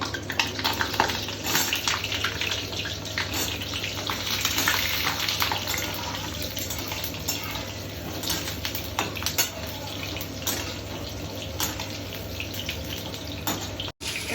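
Steady, dense crackling and hissing of potatoes frying in hot oil in a kadai, continuous and fairly loud throughout with no talking.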